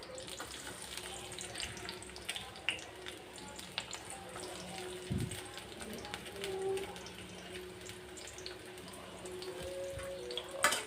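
Chopped garlic and onion frying in a pan in a village kitchen, a soft, steady crackling sizzle with occasional small pops, fairly quiet.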